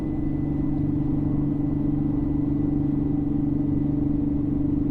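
Steady low exhaust drone from an Infiniti G37 with Motordyne parts and stock headers cruising on the highway around 3,000 RPM, a constant close humming rumble with road noise and no variation in level.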